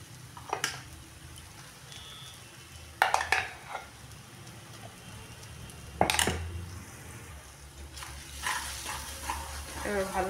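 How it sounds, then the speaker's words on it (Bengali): Lentil paste fries in a pan with spices for a kachori filling, giving a low background sizzle. Several distinct scraping stirs cut in sharply at a few separated moments. "এবার ভালো করে নাড়াচাড়া করে এটা পাকিয়ে নেব।"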